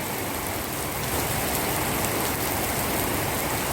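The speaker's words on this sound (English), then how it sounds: "With this nice heavy rain." Heavy rain pours steadily onto a roof with solar panels and into a swimming pool, a dense, loud, unbroken hiss with no pauses or voices.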